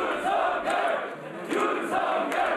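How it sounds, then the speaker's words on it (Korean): Supporters at the People Power Party headquarters burst into cheering and applause as election results come in, a loud crowd roar of overlapping shouts and clapping that swells, dips briefly, then surges again. "그 시각 국민의힘 당사에서는 박수와 함께 환호성이 터져나왔습니다."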